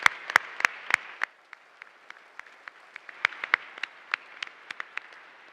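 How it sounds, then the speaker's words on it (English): Sparse, thin applause at a school chapel gathering, a handful of separate sharp claps spaced irregularly, quiet and fading out rather than a full crowd ovation. "Can we get another huge round of applause for all of our speakers today?"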